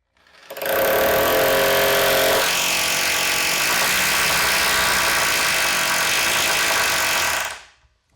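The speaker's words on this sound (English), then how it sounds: "take my concrete drill." Concrete drill boring into a basement concrete floor, a loud continuous grinding whir that starts abruptly, shifts pitch as the bit bites after a couple of seconds, then stops cleanly after about seven seconds.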